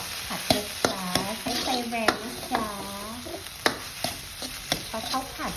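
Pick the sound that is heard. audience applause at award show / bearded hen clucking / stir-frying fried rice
stir-frying fried rice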